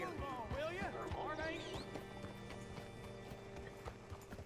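Horse hooves clip-clop at a steady gallop in the Red Dead Redemption 2 video game, riding under game music and voices for the first couple of seconds, then running on more evenly.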